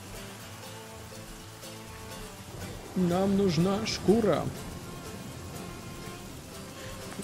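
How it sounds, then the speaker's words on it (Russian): Steady rain hiss from the survival game The Flame in the Flood runs under the whole stretch, faint and even, while someone speaks over it midway. "Дождик меня не радует, конечно, ну да ладно."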